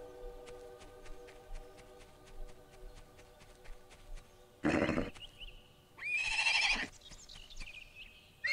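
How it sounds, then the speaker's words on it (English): A horse in the god game Black and White neighs in two loud, whinnying bursts, one short and a longer one, over a steady backdrop of regular ticking and ambient game tones. "Oh, I like the horse."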